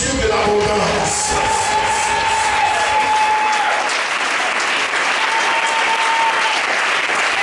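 A church congregation at a Sunday worship service claps and cheers loudly and close, a dense wall of applause with voices calling out and sustained tones ringing through early on, the clapping thinning slightly toward the end.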